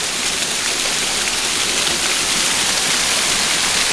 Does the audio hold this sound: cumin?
no